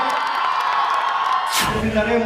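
A crowd cheers and whoops for a guest at a film promotion event in Shivamoga, a steady roar of voices with a sharp swell near the end.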